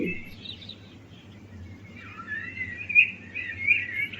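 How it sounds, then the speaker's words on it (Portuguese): Birds sing and chirp among bamboo in a natural setting, a soft scattered twittering that grows busier in the second half over a faint low background hum, with no talking. "Os pássaros voavam aos bambus, cantando."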